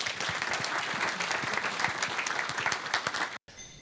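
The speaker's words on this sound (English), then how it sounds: "Please welcome Professor Konrad Lewczuk with a big round of applause." Audience applause welcoming Professor Konrad Lewczuk at an expert panel event: a steady, dense round of clapping from a crowd that cuts off abruptly near the end.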